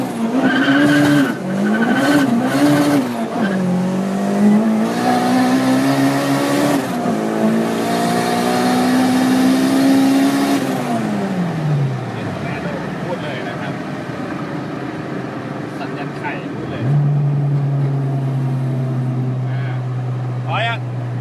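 A tuned Honda K24 engine car with a big turbo winds up hard through the gears, its loud rising whine climbing, dropping at each shift and climbing again, then settling into a steady drone at the end.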